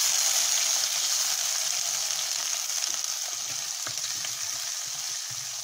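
Small shallots, slit at the center, sautéing in hot oil for a kuzhambu, a steady loud hissing sizzle with occasional soft pops and faint stirring sounds.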